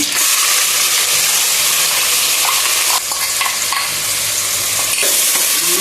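Onions frying loudly in a pan with crackling mustard seeds and cumin, a dense continuous sizzle throughout with a few stirring scrapes, close and steady.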